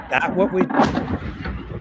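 A strike explosion on a bridge at night lands as a heavy, rumbling blast, with a voice speaking over the footage.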